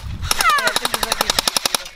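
Rapid automatic gunfire, about fifteen sharp evenly spaced shots in a fast burst, loud and close, with no talking over it.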